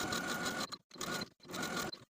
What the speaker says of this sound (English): Edge stitch all along the outer edges, close to the edge of that pocket, about 1/8 of an inch.